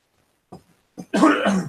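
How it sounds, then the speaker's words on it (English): A person clearing their throat close to the mic, a couple of short quiet catches followed by one longer rough, gravelly rasp. "Let me clear my throat"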